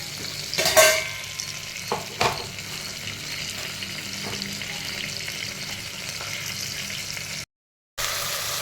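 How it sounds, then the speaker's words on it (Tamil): Small shallots sautéing in a pan for vathal kuzhambu, a close sizzle with a few sharp scraping stirs early on, a brief dropout near the end. "பார்த்திங்கன்னா சின்ன வெங்காயம் நல்லா கொஞ்சம் வதங்கிடுச்சு."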